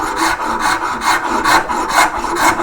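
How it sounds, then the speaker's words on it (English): A rasp files the surface of a carved wooden hare's head in continuous, loud, close strokes with a rhythmic scratching pulse, heard alone. "I'm going to take a rasp and just consolidate this surface"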